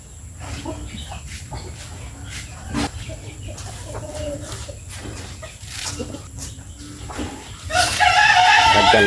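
Chickens cluck and a rooster crows amid a busy coop, with scattered calls throughout and a louder crow near the end, close by.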